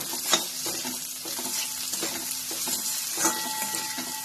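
Cabbage and capsicum are stir-fried in a pan, giving a steady close sizzle with a spatula scraping and tossing the vegetables every half second or so.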